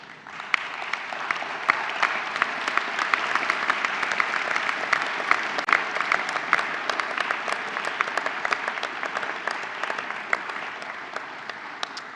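A large graduation-ceremony crowd in Melbourne applauds steadily for about twelve seconds, dense sustained clapping filling the hall without a break and no voices over it.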